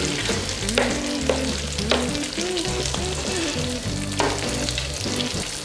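Crawfish and shrimp étouffée sauce simmering on low in a pot gives a steady, close bubbling sizzle that runs throughout, with music playing underneath.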